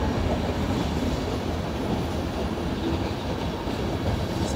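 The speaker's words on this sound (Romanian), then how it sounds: "Frate, tren lung." A long passenger train rolls steadily past a station on the Prahova Valley line near Sinaia, giving a continuous dense rumble and wheel clatter at close range with no break in the noise.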